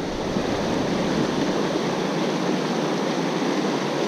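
Steady broadband roar of rushing river water at a waterfall, loud and continuous, swollen by a first flood, with no voices over it.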